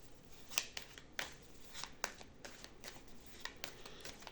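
A Gypsy Lenormand card deck being shuffled, giving a run of crisp riffling flicks and short slaps at an irregular rhythm, close and fairly quiet, with no voices.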